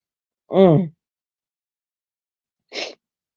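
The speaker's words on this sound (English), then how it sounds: "When you have a sneeze that wants to come out, but it is not." One sharp, voiced sneeze bursts out in near silence, followed a couple of seconds later by a short, breathy exhale.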